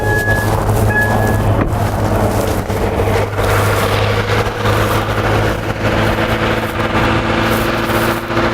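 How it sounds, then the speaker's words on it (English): A Subaru Crosstrek engine runs with a steady, loud droning hum and a constant low tone, close by and alone, with no voices over it. "I'm going to go ahead and start the engine up so you can hear what it sounds like."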